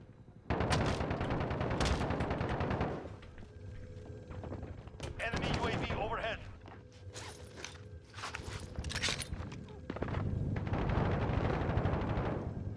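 Rapid bursts of gunfire in a multiplayer shooter match, loud and repeated across the scene, with footsteps and movement between volleys and players talking over the action.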